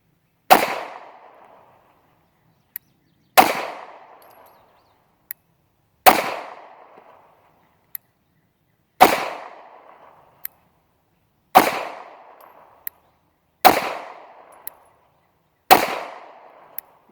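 Springfield Hellcat 9mm pistol fired at a steady pace, seven sharp, loud reports spaced a few seconds apart, each ringing out briefly, with small metallic clicks between shots.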